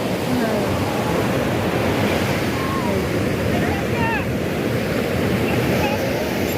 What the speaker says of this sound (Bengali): চলে এসছি সি বিচে, এখন বিকেলবেলা। এই দেখো সমুদ্র